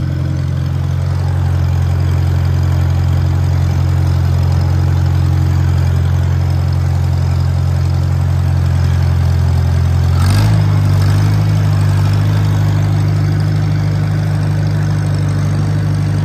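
A 1951 International Farmall tractor engine runs steadily nearby, a loud deep idle with a low, even rumble and a brief surge partway through, with no talking.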